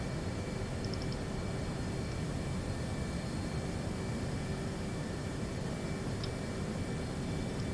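Steady, loud broadband jet engine roar of military aircraft on an aircraft carrier deck in the DCS combat flight simulator, a continuous wash of turbine noise with no pauses and no talk.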